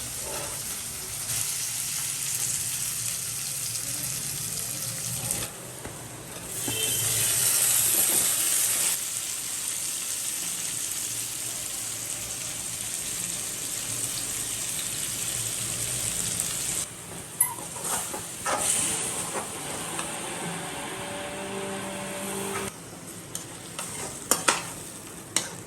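Small shallots and garlic sautéing in a pan produce a continuous close sizzle with repeated stirring and scraping, dipping briefly a few times, with scattered utensil knocks near the end.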